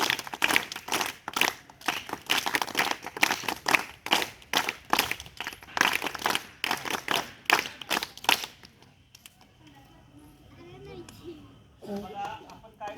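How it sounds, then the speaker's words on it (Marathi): Schoolchildren at a district council school clap together in welcome, a dense run of close claps for about eight seconds that then stops, leaving quiet room noise and a brief voice. "आपण सर्वांनी टाळ्या वाजवायच्या आहेत"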